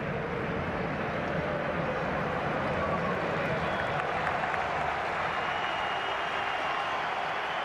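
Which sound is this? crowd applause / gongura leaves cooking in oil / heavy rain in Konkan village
crowd applause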